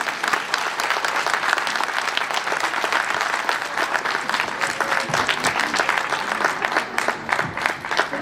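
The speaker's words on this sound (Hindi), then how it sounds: "बढ़िया तालियां बजती है इनके लिए." Sustained audience applause at a KidZee play-and-nursery annual function after a children's performance, dense and even clapping filling the hall for about eight seconds.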